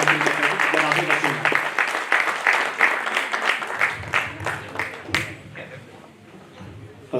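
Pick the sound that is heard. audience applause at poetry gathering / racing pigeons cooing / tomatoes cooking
audience applause at poetry gathering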